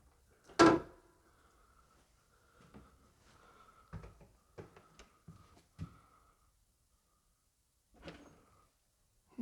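An unusual handle on the old door of St Mary the Virgin Church in Tilty, Essex, turns with one sharp clunk before the heavy door opens, followed by a scattering of softer knocks and creaks in a quiet space.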